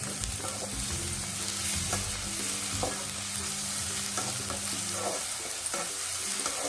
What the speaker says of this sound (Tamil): நல்லா பச்சை வாசனை போகிற வரைக்கும் நல்லா வதக்கணும்.